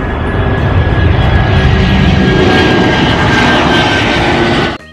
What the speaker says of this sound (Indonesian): Yang ini pesawat terbang.